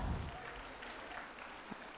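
Scattered clapping from an audience at a school event, faint and somewhat distant, with a brief louder burst at the start and a thin, uneven texture throughout.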